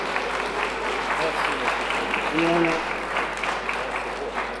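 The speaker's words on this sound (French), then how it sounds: "Mais vous applaudissez pour lui" An audience at an African group gala evening at UNESCO keeps up steady applause, while a voice briefly speaks over the clapping near the middle.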